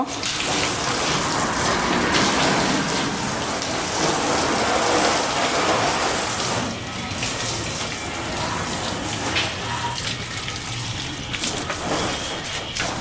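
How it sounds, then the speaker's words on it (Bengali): A hose pipe sprays water over a car in a steady, loud, hissing gush that runs unbroken, easing slightly partway through. "তো প্রথমে আমি পাইপ দিয়ে পুরো গাড়িতে পানি দিয়ে নিব।"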